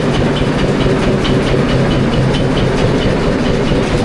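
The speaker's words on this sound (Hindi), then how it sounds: "this is the toy train guys" Toy train at Elephanta Caves in Mumbai, a steady loud rumble with a faint rhythmic clatter as it runs, continuous throughout with no talk.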